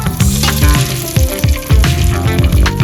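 Mustard seeds, cumin and curry leaves sizzle loudly in hot oil during tempering for a Gujarati potato bhungla dish, a steady dense crackle with sharp pops and bursts throughout.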